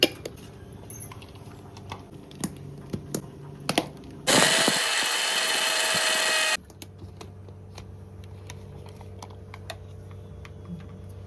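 A kitchen mixer grinder whirs loudly for about two seconds as it grinds turmeric and rasam powder, then cuts off abruptly, with clicks and small clatters before and after.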